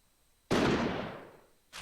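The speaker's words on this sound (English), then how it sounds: "There is a gunshot and a thick spray of blood." A single sharp gunshot from a pistol in the Code: Realize game, a loud sudden crack decaying over about a second, with the start of another burst at the end; no talking.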